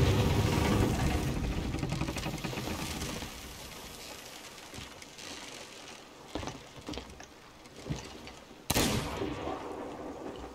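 Video game gunfire and engine noise: a dense, loud burst at the start fading to a lower rumble, then several sharp isolated shots, with one strong blast near the end.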